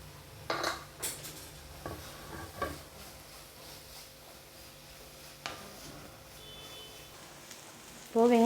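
Chopped onions sauté in a pan with butter, and a spoon or spatula scrapes and clinks against the metal in scattered soft strokes over a faint, steady sizzle. The sound is quiet and close.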